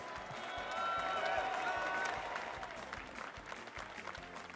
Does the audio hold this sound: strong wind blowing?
no